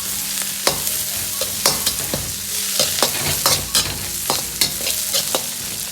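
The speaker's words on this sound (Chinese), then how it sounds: "接着下入葱姜蒜片，" Scallion, ginger and garlic slices stir-fried over medium-low heat in a wok with dried chilies and Sichuan peppercorns, a steady oily sizzle broken by repeated scraping clacks of the spatula, close and with no voices.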